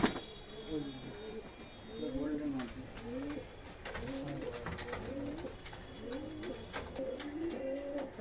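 High-flying pigeons at a home loft in Katwa coo repeatedly in a steady rhythm of rolling, swelling calls, fairly close, over light background noise with scattered clicks.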